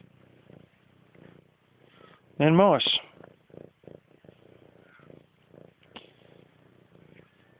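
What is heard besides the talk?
cat purring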